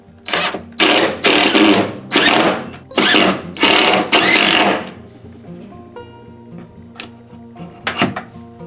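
A power drill drives screws through a pocket door bracket into the floor in a series of loud, close bursts with short pauses between them, followed by quieter handling clicks and a final brief whirr.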